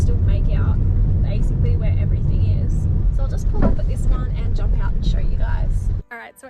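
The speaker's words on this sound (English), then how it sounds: "So I've just pulled up my car here" A car drives along with a loud, rumbling engine and road noise, with a person talking over it, before the engine cuts off and it comes to a stop.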